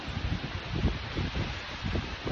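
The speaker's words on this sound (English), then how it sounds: "working under these super windy trees" Gusty wind rushing through trees, leaves rustling in swelling surges, loud and close with buffeting on the microphone.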